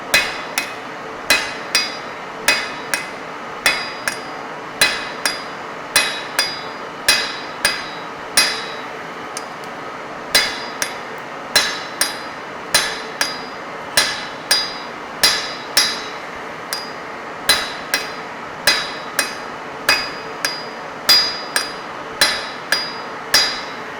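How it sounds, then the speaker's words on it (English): Sharp metallic hammer blows ring out one after another on a heated metal workpiece in a workshop, in an uneven but steady rhythm, close and loud, with no talking. "Then again apply hammer."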